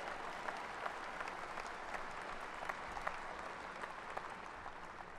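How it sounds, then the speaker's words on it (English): Audience at a spring commencement ceremony on the Gulf Coast gives faint, distant, steady applause as a graduate walks to the stage, with a few sharper claps standing out. "Y'all give her a little round of applause as she makes her way."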